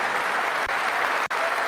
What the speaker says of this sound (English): Standing applause.